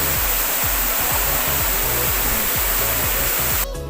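Nibaa waterfall in Aparicio, Ibajay, a loud, steady, close rushing roar of falling water that fills the whole clip with dense hiss, alone without voices, cutting slightly quieter at the very end.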